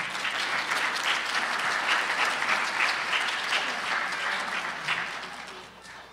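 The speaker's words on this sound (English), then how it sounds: "So let's give her another round of applause, shall we?" Audience at a talent show fundraiser applauding, a dense, sustained round of clapping from a crowd that stays full and even before tapering off slightly at the end.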